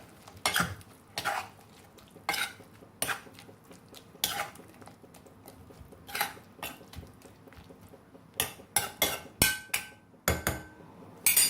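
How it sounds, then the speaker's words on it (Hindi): Metal spoon stirring torn chapatis into tomato gravy in a pan: scattered close clinks and scrapes against the pan at an uneven rhythm, with quiet gaps between. "अब इस ग्रेवी में हम अपने चपाती भी मिला लेंगे। अब इन्हें अच्छे से घुमा लेंगे।"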